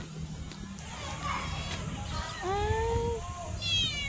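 A cat meows a few times, drawn-out and plaintive, over a noisy background with faint voices nearby.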